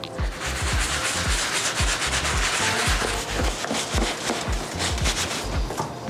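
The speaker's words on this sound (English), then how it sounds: "So gonna use a soft bristle brush," A soft bristle brush scrubs a sneaker's sock liner, giving rapid, close, rhythmic rasping strokes that repeat steadily without talk.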